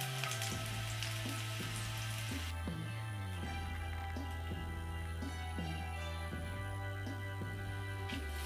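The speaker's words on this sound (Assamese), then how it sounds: "আলু কেইটুকুৰ ভালকৈ ৰঙা হোৱাকৈ এইদৰে ভাজি ল'ব" Potato pieces fry in oil until reddish-brown, giving a steady close sizzle that runs unbroken throughout with a faint tonal hum beneath and no voices.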